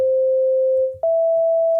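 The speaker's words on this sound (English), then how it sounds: "let's check out what a sine wave sounds like" A pure synthesizer sine wave tone holds one steady clear pitch, then jumps to a slightly higher note midway and sustains there, loud and alone.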